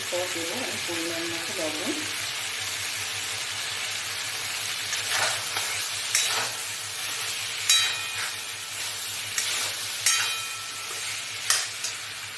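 Vegetables and spices for a chhana curry sizzle loudly in a pan, with repeated scraping stirs and clatters of a spatula against the pan over a steady frying hiss.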